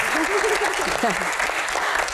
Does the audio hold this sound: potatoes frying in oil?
no